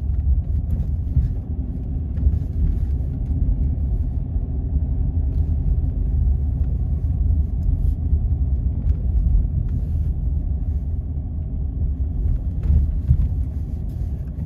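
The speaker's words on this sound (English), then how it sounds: "We are driving on Hardfield Road at the moment." Steady low road rumble of a car driving slowly along Hardfield Road, a quiet residential street with speed humps in Chadderton, continuous and unbroken with no talk.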